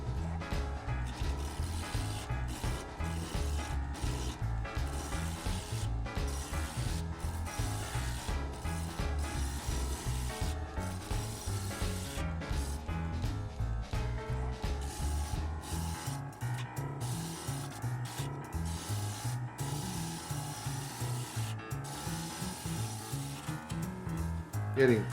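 A lathe tool taking extremely thin cuts on a chokecherry wood winged bowl: a soft, continuous scraping hiss with fine rhythmic ticking as the spinning wood passes the tool, quiet and steady throughout.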